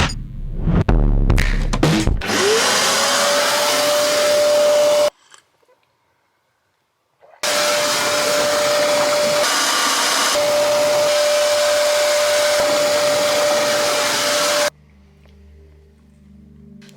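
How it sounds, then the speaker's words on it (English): A vacuum cleaner sucks leaked water out of a narrowboat's cabin bilge, a loud steady whine that starts with a rising pitch, cuts out briefly, then runs on before shutting off. "Right, let's get hoovering up some of that leaky water."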